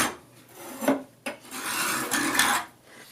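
A metal file rasps along the curved edge of a gooseneck card scraper being sharpened, strokes close and scratchy, with a short pause before longer continuous passes.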